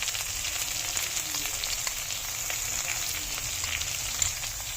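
Steady, soft sizzling of carrots, peas and capsicum frying in hot oil for Karnataka-style akki usli, a continuous crackle with no talking.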